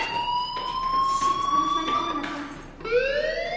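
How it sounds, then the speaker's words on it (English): A fire alarm rings inside the video game Life is Strange, a steady loud electronic whooping tone that sweeps and restarts, heard alone without speech. "do you hear that fire alarm? That means you should be outside."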